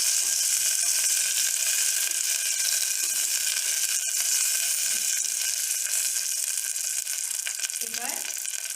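Ingredients fry for basanti pulao, a loud continuous hiss of oil in the pan with a brief clink partway through and a faint voice near the end.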